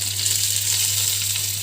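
Green chillies frying in a pan for a tomato curry, a steady close hiss of sizzling oil over a low constant hum, with no voices.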